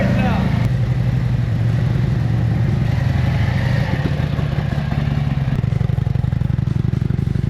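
A customized Harley-Davidson CVO RR motorcycle engine runs close by, its exhaust giving a loud, throbbing low rumble throughout, with people talking over it.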